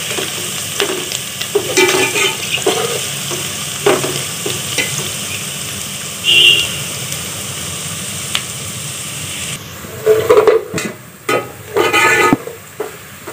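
Onions frying in a pan for kaleji masala, a steady soft sizzle with scattered clinks and scraping stirs, louder bursts of stirring and clatter near the end.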